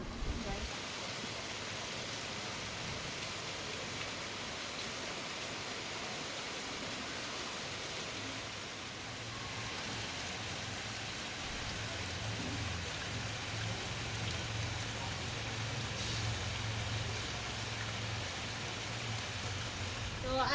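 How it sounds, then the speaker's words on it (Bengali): Rain falls steadily on a monsoon day, a continuous even hiss of drops on surfaces, moderately loud and unbroken for the whole stretch. "আজকে একটা বৃষ্টি দিন"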